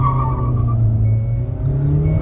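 Two cars, a Hyundai Creta and a Tata Nexon, launch side by side in a drag race, a loud steady engine drone with a low tonal hum holding close and constant.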